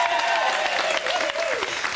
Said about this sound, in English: If you're giving a round of applause for anyone right now, Laura Nolan